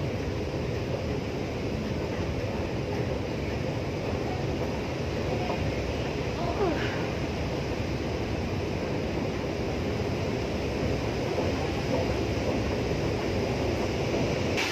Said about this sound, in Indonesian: Di luar hujan deras ya teman-teman, hujan deras lihat.